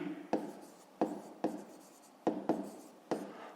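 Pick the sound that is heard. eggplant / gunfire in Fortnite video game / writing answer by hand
writing answer by hand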